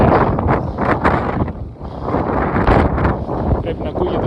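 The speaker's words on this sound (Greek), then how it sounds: "Έχει τρομερό αέρα." Strong wind gusting on a mountain trail in the Gerania Mountains, heavy rumbling buffeting against the microphone in uneven surges, with a voice speaking beneath the roar.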